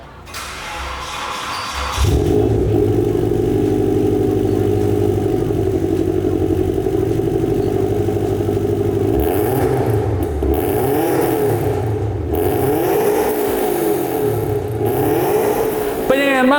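A Toyota FT86 boxer engine idles with a throaty, burbling rumble, then revs up and down in several swells, loud and close.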